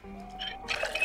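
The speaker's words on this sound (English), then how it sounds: "Let's get a bowl so we can fill it with water." Water trickling and pouring as a bowl is filled in the zombie survival video game Project Zomboid, a soft splashing fill that swells louder in the second half of the short clip.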